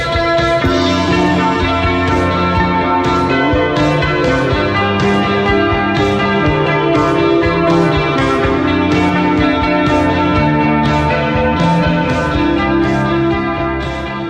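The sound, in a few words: shoegaze music with reverb-drenched guitar walls of sound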